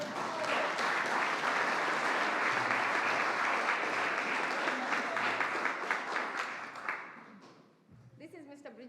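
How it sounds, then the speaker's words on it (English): Audience at an award ceremony applauding the winners, a sustained loud burst of many hands clapping that fades out after about seven seconds, after which a voice begins speaking. "Let's give them a big clap."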